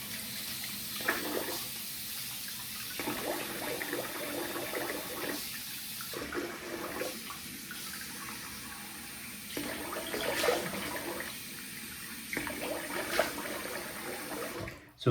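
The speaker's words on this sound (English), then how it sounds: "I'm gonna rinse the face here." Tap water runs steadily into a sink while a man rinses his face after a wet shave, with a continuous splashing hiss that breaks into short gaps and surges as the hands dip in and out.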